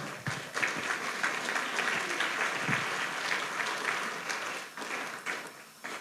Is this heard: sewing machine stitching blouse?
no